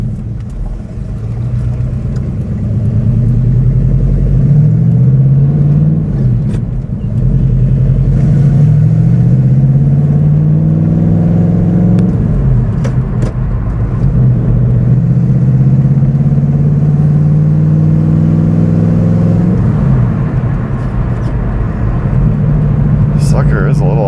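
Inside a V8-swapped Pontiac Fiero driving down the road, the engine rumbles steadily and rises and falls in pitch as it revs through gears, with people talking over it.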